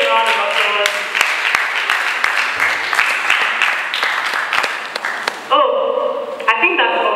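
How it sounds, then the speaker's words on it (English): Audience clapping at a 2020 college valedictory service, dense and sustained, with a few sharper individual claps standing out and a voice coming in over it near the end. "Let's give a round of applause."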